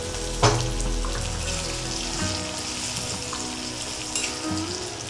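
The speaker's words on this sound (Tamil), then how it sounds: "வதக்கும்போது கொஞ்சோண்டு உப்பு போட்டிங்கன்னா வெங்காயம் சீக்கிரமாக நல்லா வதங்கிடும்." Onions sauté in oil with a little salt for a spicy Tamil tamarind curry, giving a steady, fairly loud sizzle with a brief clatter of stirring near the start.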